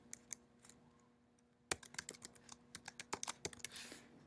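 Typing on a computer keyboard, a few scattered clicks and then a denser run of crisp keystrokes over a low steady hum, close and quiet, with no voices.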